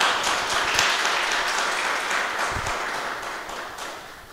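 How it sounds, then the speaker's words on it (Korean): An audience at a small gathering claps in a warm burst of applause that stays full at first and then slowly thins and fades. "큰 박수 좀 부탁드립니다"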